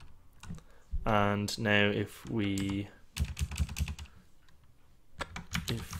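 A computer keyboard is typed on while entering a Nagios NRPE server start command; a quick run of crisp, close clicks follows a brief spoken phrase, with a voice present at the start.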